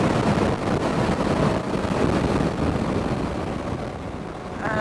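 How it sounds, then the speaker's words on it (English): Strong desert wind near Lobitos, Peru, roars continuously into the microphone as a loud, close, broadband rush that eases slightly toward the end, with no voices. "Super windy here."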